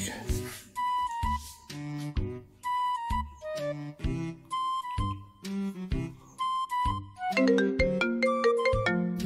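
A melodic phone ringtone plays a repeating chime-like tune, loud and close, with the pattern cycling several times and growing denser toward the end.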